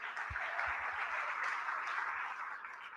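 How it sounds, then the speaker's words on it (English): Audience applause at an ANC event in Gauteng forms a steady, dense patter of many hands clapping, moderately loud and sustained for the whole stretch, with a few low thumps underneath. "Round of applause for them."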